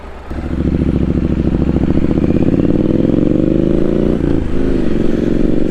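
A motorcycle engine runs close and loud on a morning ride, idling steadily at first and then rising in pitch as the bike pulls away and accelerates, with no talking.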